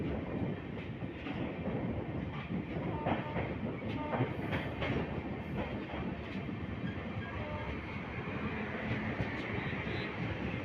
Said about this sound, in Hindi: अभी हमारी ट्रेन उगना हॉल्ट को क्रॉस कर रही है।